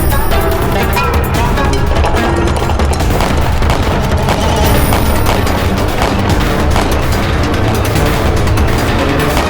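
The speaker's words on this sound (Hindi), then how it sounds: "हम खुद चलाएंगे तोप अभी।" Loud, dense battle din of booming cannon blasts and rapid gunfire, continuous and chaotic throughout.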